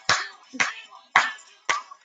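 Young children at circle time clap in four separate sharp bursts, each a brief loose cluster of hand claps spaced about half a second apart, close and fairly loud in a quiet room.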